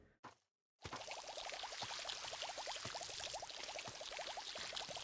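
Pressure-washer style water spraying in the cleaning video game Fresh Start Cleaning Simulator, a steady rushing stream with rapid pulsing spatter after a brief click and moment of silence, close and continuous.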